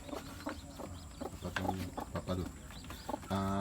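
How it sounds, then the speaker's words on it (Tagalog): Rhode Island Red hen brooding chicks in a backyard farm, giving clucks and short calls amid bird noise and faint talk, with a louder, steadier cluck near the end. "meron akong Rhode Island Red na naglilimlim at saka may mga sisiw na ngayon, masiyam na sisiw."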